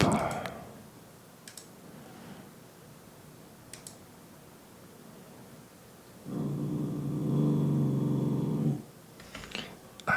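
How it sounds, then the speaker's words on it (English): A dog growls in a low, steady rumble for a couple of seconds midway, with faint clicks of small plastic building bricks before and after in a quiet indoor room. "I also have a dog. So if you hear her, that is her growling."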